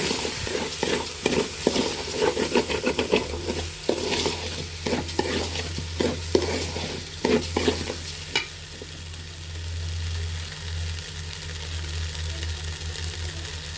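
Rice sizzles as it is fried in a pot for chicken biryani, with steady spoon-scraping strokes through the first half, then a calmer continuous sizzle over a low hum; no talking.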